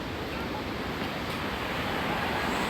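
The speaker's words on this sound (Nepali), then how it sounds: "खोलाको साउन्ड सुनिरहनु भयो होला." The Langtang river in Nepal, heard from a footbridge as a steady broadband rush of flowing water, continuous and fairly loud with no breaks.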